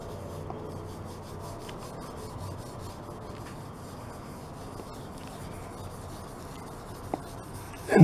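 A rag loaded with wood finish restorer is rubbed back and forth over scratches in a finished wooden surface, giving soft, close rasping strokes, with a brief louder knock at the end.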